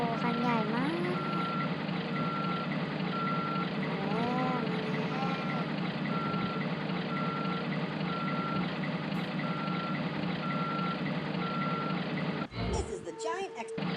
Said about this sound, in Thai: รถแมคโครคันใหญ่มากมาแล้ว